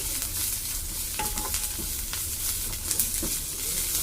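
A spoonful of ginger garlic paste with curry leaves hisses in hot oil in a pan while a fish fry is being made, a constant loud sizzle broken by occasional stirring clicks, with no voices.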